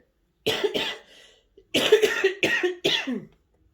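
Several harsh coughs close up from a child, a single cough followed by a pause, then a rapid burst of three or four more.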